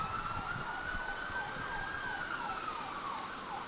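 Distant emergency vehicle sirens wail in repeated rising and falling sweeps during a 1998 wind storm in Elkhart, Indiana, steady but faint over a low rumble of traffic and wind.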